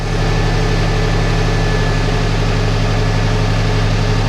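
A steady, loud engine drone with a low rumbling pulse, revved to power a weeding robot's hydraulic cylinder, running continuously without any breaks.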